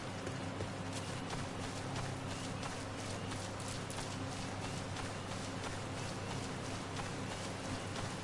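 Steady rain pours down at night in the video game Final Fantasy XIV, a dense, constant hiss of drops with faint patter and no talking.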